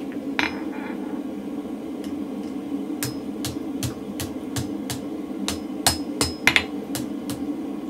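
A steel bar held over the edge of an anvil is struck by a blacksmith's hammer to bend it, a string of sharp ringing blows, sparse at first then coming in a faster rhythm, over a low steady workshop hum.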